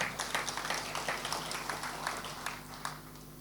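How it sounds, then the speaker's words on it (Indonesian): Applause from a congregation at a church service, a steady patter of many hands clapping at moderate distance, fairly faint and even throughout with no voices over it. "Beri tepuk tangan untuk kebenaran ini"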